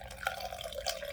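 Water is poured from a cup into another container, a short, faint, steady trickle with light splashes and no talk.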